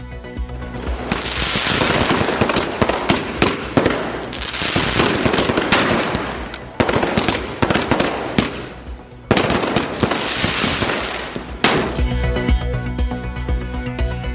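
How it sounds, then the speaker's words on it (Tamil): Diwali fireworks over Sivakasi, Tamil Nadu, explode in loud, rapid, rattling barrages that come in several long waves with brief lulls between them. "வான வேடிக்கைகளால் வண்ணமயமாக மாறிய சிவகாசி நகர்."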